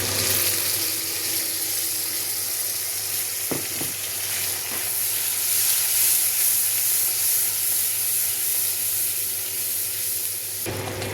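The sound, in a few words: onion added to hot oil from frying prawns, sizzling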